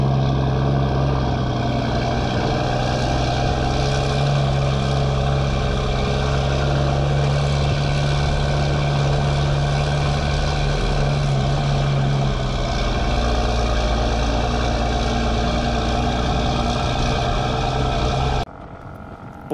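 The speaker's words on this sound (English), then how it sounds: "Now this is just a pretty hard pull, so I thought I'd throw this in here because I just love the way this truck sounds." A Volvo truck engine hauling stone under a hard pull gives a loud, steady, deep drone with a constant low hum that holds throughout and drops abruptly near the end.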